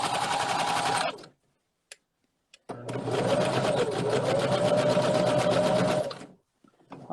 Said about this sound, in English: if you put your pins in straight, your sewing machine will be able to glide right over them